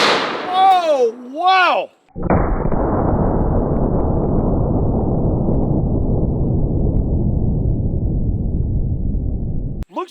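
A less lethal .50 BMG round is fired at a nacho cheese target, giving a sudden loud blast followed by a long roaring, slowly fading rumble. A short excited exclamation comes just before it.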